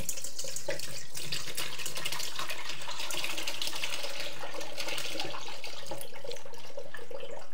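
Homemade red wine, pressed from grapes, poured in a steady, continuous liquid stream that splashes and gurgles close by with no talking.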